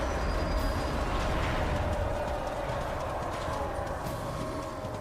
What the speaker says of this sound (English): Hey, there's my horse.